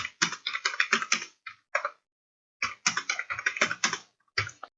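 Rapid typing on a computer keyboard, with dense bursts of clicking keystrokes, a brief pause, then another flurry of keys, close and clear with no speech.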